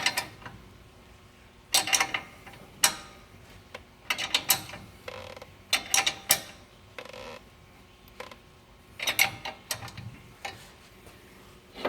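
A wrench tightens a bolt on the upper control arm of a Ram 1500, giving short bursts of clicking, creaking ratchet strokes with quiet pauses between them, close and fairly faint.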